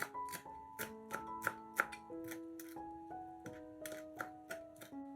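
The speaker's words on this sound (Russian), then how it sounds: "Мелко нарезаем небольшой пучок петрушки." A knife finely chops a small bunch of parsley on a board, making quick, crisp, evenly spaced taps in short bursts over soft background music.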